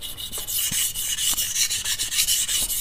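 Rhythmic, gritty scraping of a Cap Koki chef's knife stroked back and forth across an abrasive whetstone, close and fairly quiet, with no voices.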